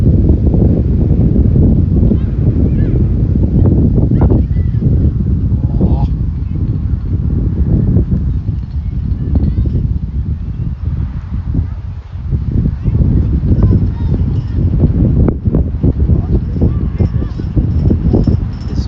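Strong wind at an under-13 cricket match buffets loudly and continuously, a rough low roar with gusty swells throughout, close and heavy, drowning out other sounds.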